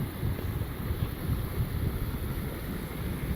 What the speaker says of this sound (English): You can hear the rocks rolling down the creek.